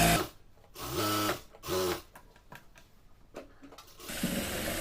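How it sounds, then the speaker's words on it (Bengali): A sewing machine stitches a salwar in two short bursts of rapid whirring, close and clear, separated by pauses filled with fabric handling and light clicks, before a softer running hum resumes at the end. "তো তার জন্য তো দেখুন আমি এটাকে কিভাবে সেলাই করে নিচ্ছি লক্ষ্য করুন।"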